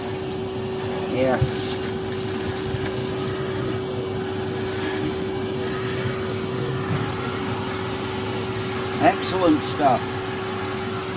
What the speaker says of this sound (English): You can hear that hoover.